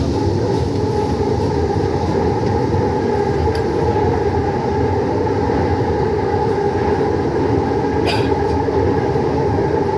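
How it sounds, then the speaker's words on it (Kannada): A Bengaluru Namma Metro train running between Whitefield and MG Road as it nears Nallurhalli station: a steady, loud rumble and hum from inside the carriage through the whole stretch, with a brief high squeal near the end. "ರೈಲು ಈಗ ನಲ್ಲೂರು ಹಳ್ಳಿಗೆ ತಲುಪಲಿದೆ."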